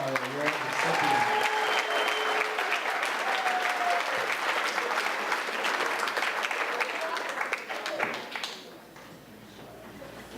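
Dense, sustained applause from a school audience for award recipients at an eighth grade graduation ceremony, steady and full for about eight seconds before thinning toward the end.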